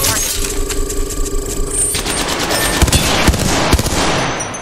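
Rapid automatic gunfire and sharp single shots in the battle royale game Apex Legends, loud and close, with breaking and mechanical clatter mixed into the bursts.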